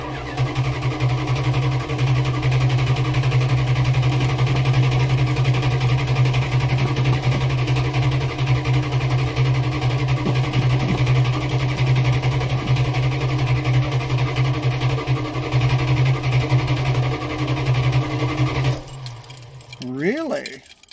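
Old engine with the choke set, running with a loud, steady low droning hum and rattle for most of the stretch before the sound dips and shifts near the end.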